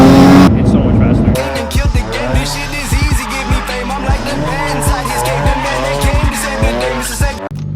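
A boosted Nissan 350Z engine runs smoothly with no misfire, loud and close, with rhythmic revving pulses and tire-squeal-like tones, and a voice talks over it.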